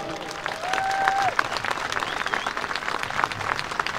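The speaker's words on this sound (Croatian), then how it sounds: "molimo vas da jednim velikim pljeskom otvorimo svi skupa drugi nogometni kamp Zlatko Dalić" A crowd at the opening of the second Zlatko Dalić football camp in Livno bursts into sustained clapping that fills the whole moment, with a whistle-like tone rising briefly early on.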